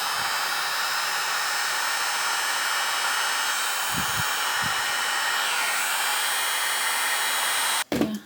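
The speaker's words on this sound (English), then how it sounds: "also easily fixed with my heat gun. So just a little bit." A heat gun blows with a steady, loud hiss as it melts the uneven tops of homemade candles, running almost unbroken before a short clatter at the very end.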